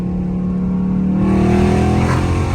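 A Dodge Scat Pack car engine revving steadily nearby, a loud low drone whose pitch climbs partway through as it is floored and then holds.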